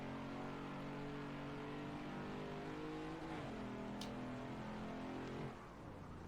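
A Ford Mach 1 on the Watkins Glen circuit accelerating hard under throttle, a steady in-car engine drone that climbs in pitch, drops briefly at a shift, then climbs again.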